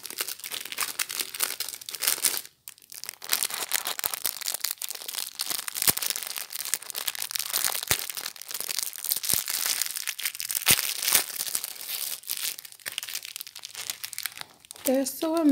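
Nail art foils crinkle steadily and closely as they are handled, a continuous crisp rustle with brief pauses and a voice speaking lightly over it.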